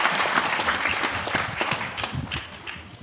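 An audience at a Hindu Shri Ram Katha religious gathering claps in a sustained burst of applause to welcome the speaker, a dense, moderately loud spatter of hands lasting a few seconds.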